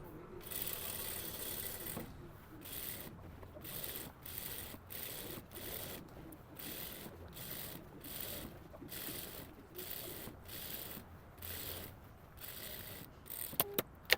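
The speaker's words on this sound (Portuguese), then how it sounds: "eu vou passar de novo mais uma costura" A sewing machine runs another seam on an asymmetric dress, a close mechanical whirring clatter in repeated short bursts with brief pauses between them and no speech.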